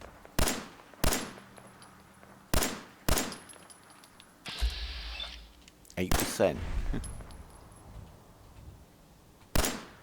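A 10mm pistol firing in the Fallout 4 video game, with sharp, loud single shots spaced a second or two apart, some in quick pairs, among other game sounds.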